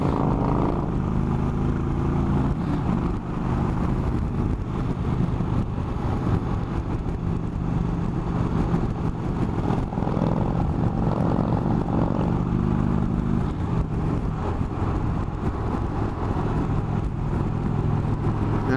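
An Indian Chief Vintage motorcycle cruises in top gear at highway speed, its low engine drone and wind rush steady and continuous with no talk.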